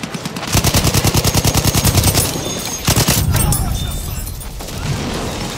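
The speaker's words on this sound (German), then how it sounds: "Maschinengewehr, eindeutig feindlich." Rapid machine gun bursts from an enemy in Battlefield 1, a fast steady rattle of about twenty shots over two seconds, then a pause and further overlapping bursts amid battlefield noise, loud and close.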